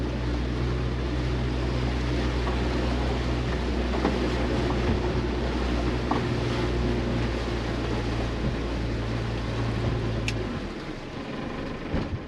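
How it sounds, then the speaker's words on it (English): Small fishing boat off Eastbourne being spun around to set up a drift: a steady low outboard engine drone with water wash runs throughout, then the engine note drops away near the end, leaving quieter water sounds. "let's turn the boat around and spin the boat around and get on this drift."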